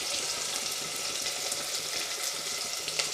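Finely chopped onions sauté in a pan with cumin seeds and curry leaves for masoor rice, giving a continuous, even, close frying sizzle without speech.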